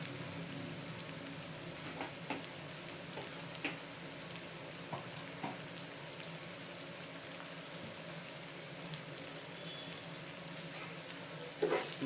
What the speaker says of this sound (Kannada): ಫ್ರೈ ಮಾಡ್ಕೊಳ್ಳೋಣ ಇವಾಗ ಸಾಲ್ಟ್ ಹಾಕಿದ್ಮೇಲೆ.